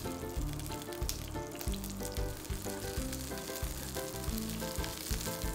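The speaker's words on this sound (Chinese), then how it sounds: "我哋将啲盐西头、葱白同红葱头落锅爆香。" Garlic, scallion whites and shallots sizzle in hot oil in a wok, a steady close crackle over a low rhythmic thumping background that continues throughout.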